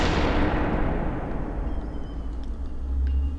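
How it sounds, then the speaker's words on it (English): A heavy gunshot in the SUPERHOT video game, a loud close blast whose boom and rumble fade over a few seconds, with faint clicks near the end and no talking. "So I can also hold the mouse trigger button to just keep shooting"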